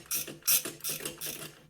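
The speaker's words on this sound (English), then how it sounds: "I knew I had one of these wrenches that doesn't reverse." A non-reversing ratchet wrench clicks rapidly in four quick bursts as it slackens tension during a clutch and primary chain job on a 1950s-style JAWA 350 motorcycle, close and crisp.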